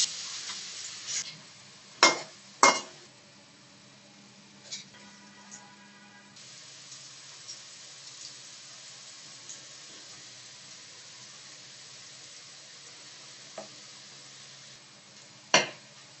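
Besan boondi batter frying in hot oil in a kadai, a steady soft sizzle running throughout, punctuated by occasional sharp metallic clinks and taps of a utensil, with no voices.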